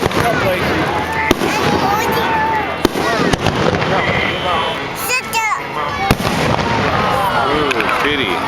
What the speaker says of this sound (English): You like the fireworks?